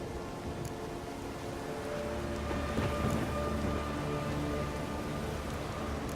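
A steady downpour hisses through a storm in The Witcher 3, with a low rumble of thunder swelling under the rain partway through, continuous and enveloping with no voices.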